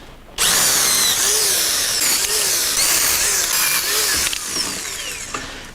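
A loud, close power tool cuts the low branches off a flowering cherry tree, running steadily with a rising and falling whine for several seconds before it eases off near the end.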